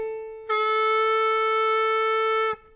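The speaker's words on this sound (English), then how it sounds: "Three draw double bend sounds like this." On a C harmonica, a three-draw double bend gives one steady, bright, bent reed tone held for about two seconds, played close and alone in a quiet room.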